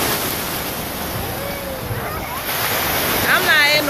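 Ocean surf washes in at Clearwater Beach, Florida, a steady rushing wash with wind buffeting the microphone, as people talk nearby during a family beach day.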